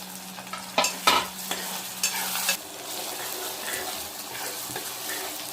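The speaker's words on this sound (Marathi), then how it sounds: "आता मी त्याच्यामध्ये टाकत आहे टोमॅटो आणि थोडंसं कढीपत्ता" Browned onion frying with tomato and curry leaves in a pan for green pulao: a few clattering stirs at first, then a steady, close, hissing sizzle.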